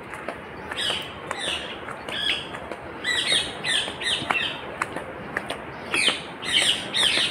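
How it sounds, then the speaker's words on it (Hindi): Birds squawk and chirp repeatedly at the Beatles Ashram (Chaurasi Kutia) in Rishikesh, with sharp calls coming in irregular bursts over a quiet outdoor background, moderately close and with no talking. "बड़े अच्छे पक्षी बोल रहे हैं,"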